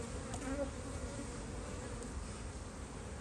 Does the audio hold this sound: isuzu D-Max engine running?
no